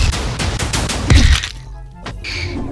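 A loud in-game explosion in Minecraft follows a run of sharp cracking hits, then booms and cuts to a brief near-silence before more game sounds return.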